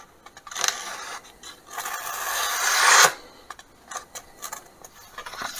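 A kitchen knife slices through a sheet of paper, giving a dry rasping scrape that builds into a long, louder cut, followed by several shorter scratchy strokes nearby with no talking.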